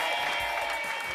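Studio audience applause for a singer on a live television music show, a short, even spell of clapping from a crowd, fairly soft and with no voices over it.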